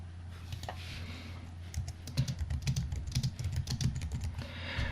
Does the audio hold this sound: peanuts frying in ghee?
no